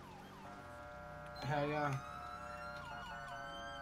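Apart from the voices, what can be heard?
police car siren in FivePD video game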